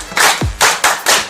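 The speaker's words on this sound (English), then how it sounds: "Clap for her." Several broadband bursts of hand clapping, a few spread across a second or so, loud and near, for a student who has just pronounced a word, with a low thud partway through.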